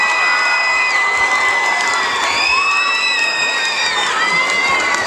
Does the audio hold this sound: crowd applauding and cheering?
yes